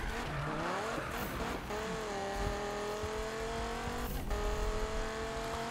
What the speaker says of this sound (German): Aber trotzdem hat die Viper auch genug Dampf.